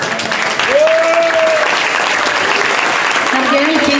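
Warm audience applause at a karaoke evening, steady dense clapping filling the room for several seconds while a voice talks over it and a brief sung or called tone rises above the crowd.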